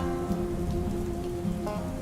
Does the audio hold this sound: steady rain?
yes